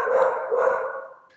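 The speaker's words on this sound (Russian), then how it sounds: "сейчас собака гавкает. Она красиво гавкает, пусть гавкает." A single short dog bark, or a pair of quick yips, sounds moderately close indoors at a relative's home, fading away with no talk over it.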